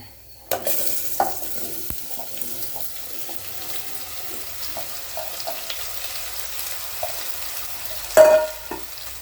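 Mango pieces sizzle softly in a pan with intermittent scraping and stirring, a few sharper clatters of a utensil against the pan near the end.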